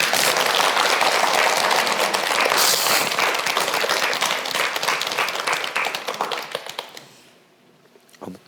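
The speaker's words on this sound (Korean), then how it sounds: "박수 한번 치라고" Crowd applause, a dense steady clapping that swells then fades away over several seconds.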